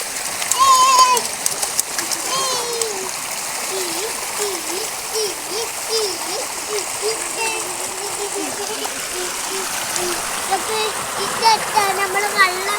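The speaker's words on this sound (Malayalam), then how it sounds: "നമ്മൾ മഴ ആസ്വദിക്കാണ്" A steady hiss of rain and splashing water during a monsoon shower, with children's voices chattering and calling over it almost the whole time.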